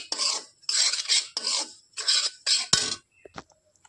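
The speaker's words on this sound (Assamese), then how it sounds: "বেচনখিনিৰ লগতে ভাজি থাকো এনেকৈ" Semolina and gram flour being fried and stirred together in a pan for barfi, giving five close, regular bursts of dry scraping and rasping, then a sharp metallic knock and a few faint clinks.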